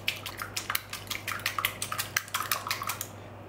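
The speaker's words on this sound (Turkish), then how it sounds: "Şöyle tereyağı kabının içerisine bir adet yumurtayı güzelce çırpıyorum." A single egg whisked briskly in a butter container while making layered katmer börek, giving quick, steady clinks and taps of utensil on container, close and fairly quiet, with no talking.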